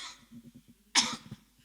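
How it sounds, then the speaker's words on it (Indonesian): A cough bursts out during a church worship service, one loud harsh hack with a short rattling tail, standing out against quiet murmuring and low background sounds of the congregation. "masih ada selingan batuk-batuk"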